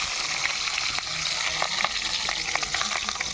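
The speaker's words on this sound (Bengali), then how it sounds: "এবার আলুটা ভেজে নেব।" Potatoes frying in mustard oil in a wok, a steady close sizzle with scattered crackles and pops running throughout, no voices.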